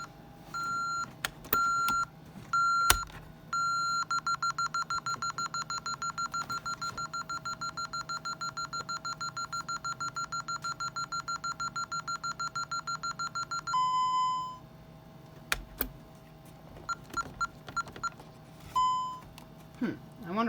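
Keypad of a newly installed fire and security alarm system beeping: a few short separate beeps, then a long steady run of rapid repeated tones lasting about ten seconds, followed by more scattered beeps, all close and fairly loud.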